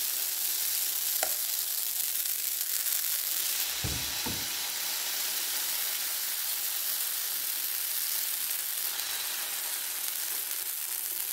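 Thin Ethiopian fasting-breakfast batter sizzles steadily on a hot griddle pan, a continuous close hiss broken by a couple of sharp clacks from a utensil.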